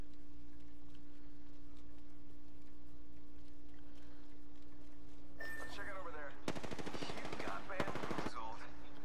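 Rapid automatic gunfire erupts in the Apex Legends video game, in loud sustained bursts over a constant steady hum. A voice speaks during the firing.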